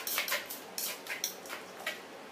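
A utensil stirs a sauce in a bowl or pot to dissolve sugar and salt for a three-flavour dipping sauce, giving a series of light clinks and scrapes in an irregular rhythm, close and fairly clear.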